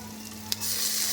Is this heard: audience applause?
no